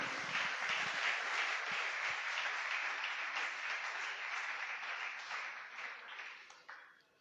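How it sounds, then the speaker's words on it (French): A church congregation claps together in loud, sustained applause to acclaim the Lord during a Sunday service, the dense patter holding steady before tapering off and fading out at the end. "On acclame le Seigneur"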